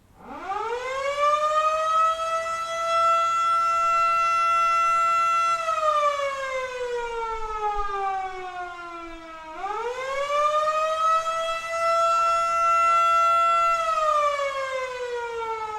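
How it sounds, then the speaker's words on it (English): A loud mechanical siren wails alone, rising in pitch, holding steady, sliding down, then winding up again for a second long rising and falling cycle. "In 1951, a new siren was installed at the fire station, replacing the existing bell."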